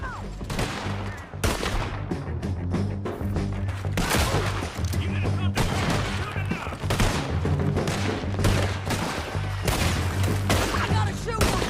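Relentless gunfire in Red Dead Redemption 2, with sharp overlapping rifle and pistol shots forming a loud, dense barrage over a low rumbling music bed, near and continuous throughout.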